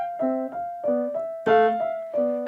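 Solo piano plays a few bars of Menuet en Rondeau with heavily accented downbeats, each chord struck hard then decaying, a close, loud, lurching pulse with no voices.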